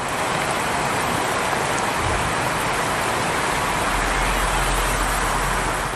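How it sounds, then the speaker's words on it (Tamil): Heavy rain with strong gusting wind in the Thanjavur area of Tamil Nadu makes a loud, constant roar, with a deep low rumble that swells toward the end. "சூறை காற்றுடன் கனமழை வெளுத்து வாங்கியது"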